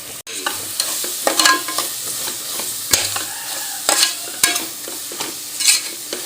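Coriander powder sautéing in a pan for a beef gravy, a close hiss of frying punctuated by repeated clinks and scrapes of a spoon against the metal as it is stirred, with no one speaking.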